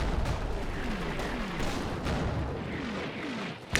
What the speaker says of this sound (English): The mortars are continuing to rain down.